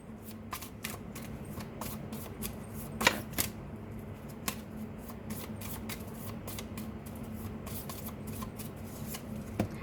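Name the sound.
tarot cards being shuffled and drawn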